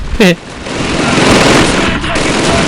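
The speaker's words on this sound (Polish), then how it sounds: "Jest taki ostrzał, że w nowych produkcjach by to już wybuchło dawno." Rapid gunfire barrage in the video game Call of Duty 2, a dense crackling burst of shots that runs on loudly after a short voice at the start, with a brief dip near the end.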